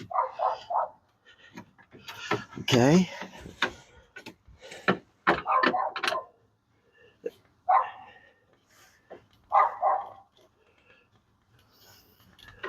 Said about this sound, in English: why does the hell does that dog have to bark at me for nothing? Just constantly.